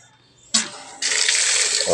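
Water bursting from a pressure tank line after a silver-rod welding repair, a sudden gush that stops and then resumes as a loud steady hissing flow, with a brief voice at the end.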